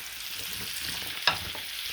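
Vegetables, including rutabaga, sizzle in a frying pan with melted butter and oil, a low steady fry hiss with a single sharp scrape of stirring near the end.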